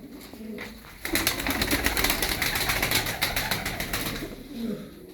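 Show tumbler pigeons, a flock of about twelve, give soft cooing calls with a sustained flutter of wings, fairly close with no talk.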